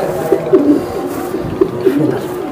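A racing pigeon from a loft, held in the hand, giving several soft, close coos in short bursts, with no talking over them.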